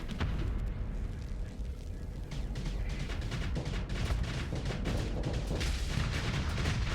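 Torpedoes striking enemy ships in a space combat game, a continuous loud rumble of overlapping explosions and impacts with no gaps.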